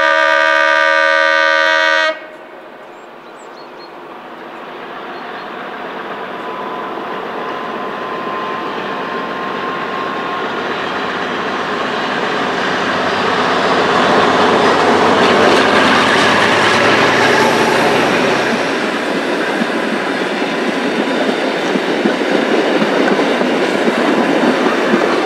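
Museum train hauled by diesel locomotive V200 033 with heating loco 212 079 in snowy Sauerland, rumbling steadily with rail clatter that swells as it draws nearer, after a short burst of horn at the start.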